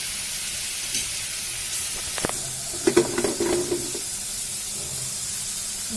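French fries frying in a pan give a steady, soft broadband sizzle throughout, with a few brief clicks and a short burst of louder bubbling near the middle.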